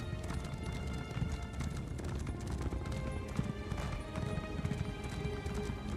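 Rhythmic clip-clop of horse hooves at a steady trot in The Elder Scrolls Online, close and constant, with a brief whinny and muffled game sounds in the background.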